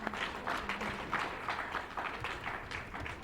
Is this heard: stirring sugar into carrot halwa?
no